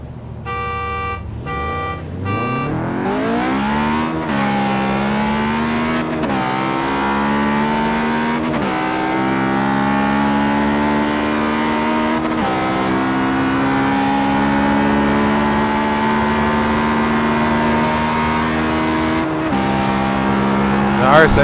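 A Honda S2000 in the racing game Forza Horizon 3 revs hard through repeated gear shifts, its engine note climbing steadily after each shift, loud and continuous for over twenty seconds.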